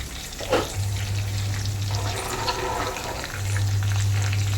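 Karimeen, pearl spot fish, fries in oil in a pan over lowered flame, a soft steady sizzle close by with a low hum and a few faint clinks, no speech.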